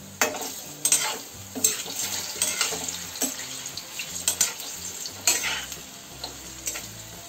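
Jackfruit kofta balls fry in oil in a kadai, giving a bubbling sizzle broken up by repeated stirring and scraping noises and an occasional metallic clink, all close up and with no voices.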